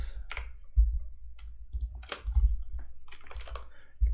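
Keyboard shortcut keystrokes tapped out while coding a Next.js project, a few sparse clicks and taps spread over several seconds with low thumps, close and fairly quiet, no talking.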